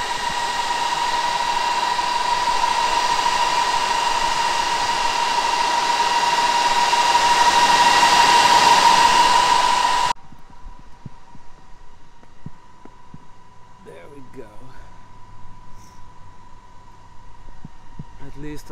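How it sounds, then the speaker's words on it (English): A 400 kW EVBox fast charger at a Fastned station runs with a loud, steady fan-like roar and whine for about ten seconds, then cuts to a much quieter hum with faint background sounds. "If you were looking for a silent charger, this is probably not the one to get."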